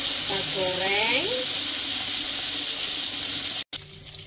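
Flour-coated pressure-cooked milkfish fries in hot oil with a steady, close, crackling sizzle throughout; a brief voice is heard near the start.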